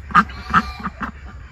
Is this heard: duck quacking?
yes